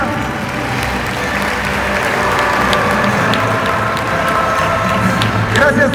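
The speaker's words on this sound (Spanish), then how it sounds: "Fuerte los aplausos, por favor." An audience at an event gives loud, sustained applause as officials arrive, a dense continuous clapping with some cheering that swells briefly near the end.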